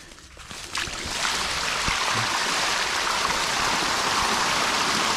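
Water gushes through a hose into a pond dam, starting with a few splashes and then settling into a steady, loud hissing rush that continues alone.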